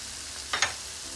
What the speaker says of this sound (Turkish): Yaklaşık olarak 4-5 dakika soteledikten sonra şimdi son olarak baharatlarımızı da ilave ediyoruz.